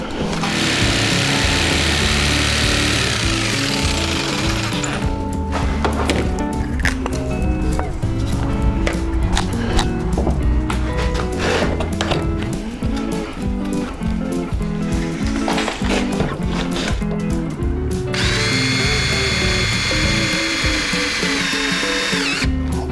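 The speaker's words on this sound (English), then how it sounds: "I'm going to drill some holes in the bottom of this" A power drill whines loudly, revving up and biting into a DIY chicken feeder trough in repeated bursts, with grinding and rattling as holes are bored in the bottom.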